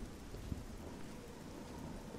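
Steady rain pours with a low thunder rumble in the video game Oblivion, a dense, even wash of sound lasting throughout with one brief soft thump near the start.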